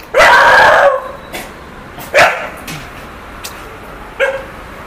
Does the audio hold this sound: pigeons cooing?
no